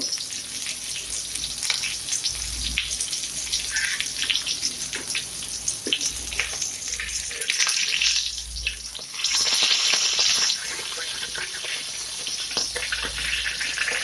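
Bangude (mackerel) rava fry sizzles in a pan with a steady, close, loud hiss and crackle that swells in bursts, and no voices.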